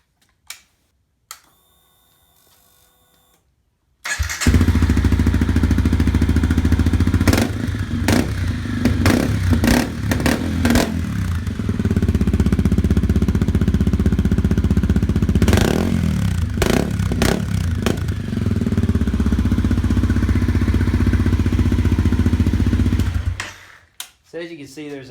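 A Honda CRF250L motorcycle fitted with a Yoshimura RS-4 exhaust starts up and idles loudly, with several sharp throttle blips partway through, before it shuts off abruptly at the end.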